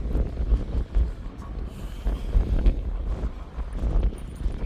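Wind gusts buffet the microphone on a fishing pier at Port Aransas, a loud continuous low rumble with pulsing surges and no talk.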